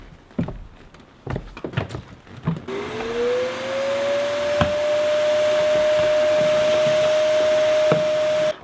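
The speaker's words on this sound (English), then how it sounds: "So I like to take a central vac every once in a while and give it a really good clean." A central vacuum cleaning a cabin floor, powered from a DJI Power 1000 station: a few knocks and clatters as the hose is handled, then the motor starts and settles into a loud, steady whine that runs to the end.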